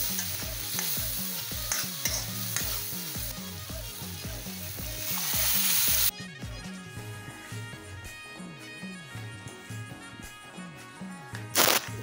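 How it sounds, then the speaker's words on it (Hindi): Tomatoes, onions and spices sizzling in a hot tempering pan, a steady loud frying hiss with rhythmic stirring scrapes throughout, close up and with no talking. "मैंने टमाटर प्याज इसमें डाल दिए हैं, पड़ गए हैं मसाले।"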